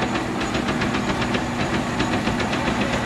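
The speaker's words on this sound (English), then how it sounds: "we have the small gear reduction motor that turns the conveyor chain real slow" An industrial egg washer runs steadily, its conveyor chain driven slowly by a small gear reduction motor, giving a loud constant mechanical hum with a rapid regular knocking pulse and no talking.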